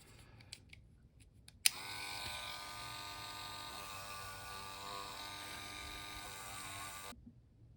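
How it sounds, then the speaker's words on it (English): A Dremel rotary tool polishes a part of a Matchbox Lamborghini toy car using Brasso on a Q-tip, spinning up with a sudden start into a steady, high-pitched whine that holds for about five seconds, then cuts off abruptly. "I'll use some Brasso, and same technique with the Dremel and Q-tip"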